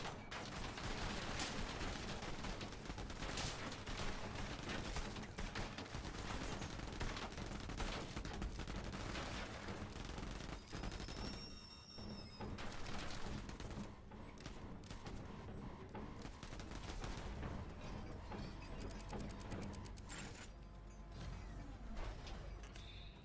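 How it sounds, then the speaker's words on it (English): Dual miniguns on the Iron Bear mech roar in Borderlands combat, a dense, continuous stream of rapid gunfire layered with mechanical clatter and whirring, loud and sustained throughout. "I think we go dual minigun Iron Bear."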